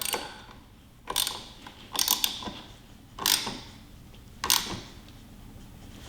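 A 1/2 inch ratchet tightening the brake handle clamp on a 2022 Harley-Davidson Fat Bob, five separate bursts of quick clicking pawl strokes with quiet pauses between them, close and clear with no talking.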